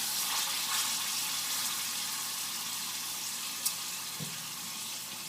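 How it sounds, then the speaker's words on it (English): Chicken sautéing in a hot pan, a steady close sizzle throughout with a single faint knock near the end as a rice spoon moves the pieces around. "So I'm just using a rice spoon to like move it around a little."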